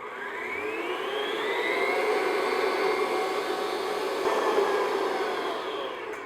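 A stand mixer beats eggs for a chocolate torte, giving a steady, fairly loud motor whir with a rising and falling whine as the whisk spins, continuous and without talking.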